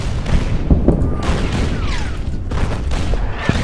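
Artillery shelling in the strategy war game Order of Battle, set on Java in the Rising Sun campaign: a steady stream of dull booms and blasts, with several sharper hits standing out over a continuous rumbling barrage.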